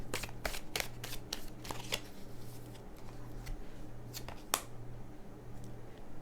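Tarot cards shuffled and drawn by hand, a run of crisp close riffles and flicks followed by a quieter pause, with no speech.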